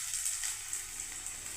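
Garlic paste sizzles softly in oil in a kadai (wok) on a gas flame, a faint, steady frying hiss with no voices.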